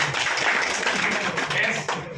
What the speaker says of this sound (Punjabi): ਇੱਕ ਵਾਰ ਜ਼ੋਰਦਾਰ ਤਾੜੀਆਂ